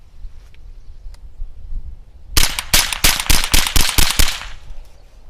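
A Ruger 10/22 semi-automatic rifle with a 16-inch barrel fires CCI Quiet ammunition in a quick string of about ten sharp, fairly subdued cracks, spaced irregularly over two seconds, with quiet rustling before the shots start.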